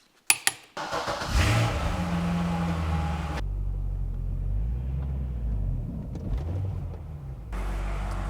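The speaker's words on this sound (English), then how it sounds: "take it for a quick test drive" Car being driven off on a test drive after brake caliper and rotor work with used parts: a door or latch clunk, then a steady low engine rumble and road noise that briefly cuts quieter midway and returns, close and without talk.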